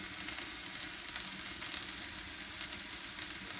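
Steak frying in butter in a cast iron skillet, a constant close, crackling sizzle with small spits and pops throughout and no talking.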